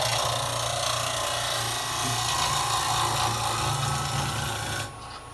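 A negative rake scraper cuts wood on a spinning lathe, giving a steady close rasping scrape over the motor's low hum that runs unbroken for about five seconds before cutting off near the end.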